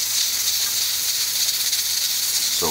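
Pressure cooker on a stove, cooking curry goat, letting off a continuous loud hiss of escaping steam that stays steady throughout, close to the listener.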